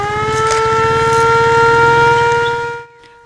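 A motorcycle ambulance siren in Murang'a County, Kenya wails loud and steady, holding close and constant for nearly three seconds, then cuts off abruptly into near silence.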